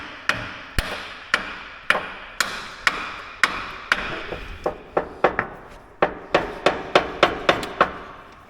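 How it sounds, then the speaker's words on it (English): A hammer strikes a John Deere 6330 boom mower tractor part in repeated loud, sharp metallic whacks, roughly one or two a second, with faster clusters toward the end, close by and with no talking. "I want to give it a couple whacks."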